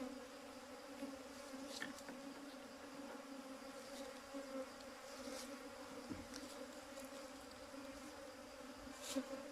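Wild Asian cavity-nesting honey bees buzz at their hive, many drones among them, a faint, continuous droning hum with occasional soft knocks.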